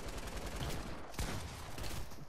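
Rapid gunfire in Fortnite, a dense rattle of shots with sharper bursts layered over steady background game noise, moderately loud throughout.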